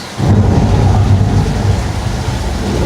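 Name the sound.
studio tour thunder sound effect triggered by button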